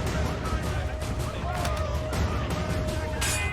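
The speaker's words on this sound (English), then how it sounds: "move over to those guys with the guns so they stop triggering gunshots" Gunfire from armed guards in Assassin's Creed 3, scattered shots and volleys crackling through a busy battle scene with a steady low rumble, a voice talking over parts of it.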